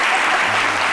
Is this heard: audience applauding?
yes